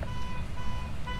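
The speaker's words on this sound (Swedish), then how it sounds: "Nu piper något här, Lukas. Lukas, det är något larm här inne nu." An alarm beeping inside a scary video game, a thin steady electronic tone sounding in short repeated pulses over a low rumbling background, moderately loud, with no talk.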